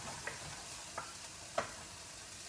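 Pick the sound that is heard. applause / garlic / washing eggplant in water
garlic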